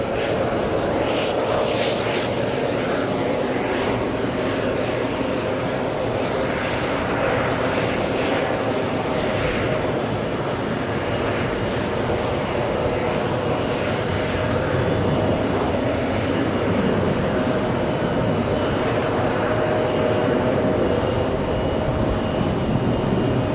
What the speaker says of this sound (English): SAS landing right now on 22 left